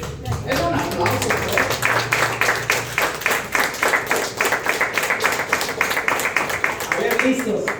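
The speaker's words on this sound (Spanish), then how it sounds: "Es un aplauso." A church congregation applauds during a service, a dense run of clapping sustained for several seconds with a voice briefly audible over it.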